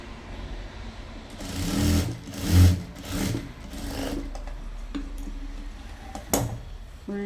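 Electric sewing machine stitching a fold on a three-year-old's baby frock, running in several short whirring bursts that rise and fall, with brief pauses between and a click near the end.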